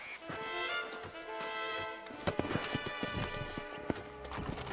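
Horse hooves clip-clop in the Red Dead Redemption video game, a run of sharp, uneven hoofbeats picking up in the second half over a steady bed of game music with a brief whinny.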